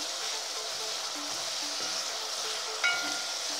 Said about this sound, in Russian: Ну, вот так, как мясо обжарилось, меня уже устраивает.